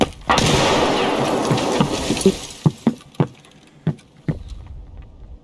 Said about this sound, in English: This guy's throwing 10 grenades.